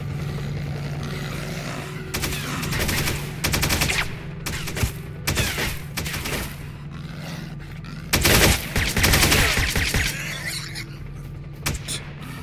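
Gunfire in a S.T.A.L.K.E.R. game, repeated bursts of automatic fire in loud clusters separated by short gaps, over a steady low background hum, with no talking.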